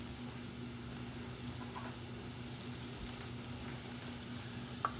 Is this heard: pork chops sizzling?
yes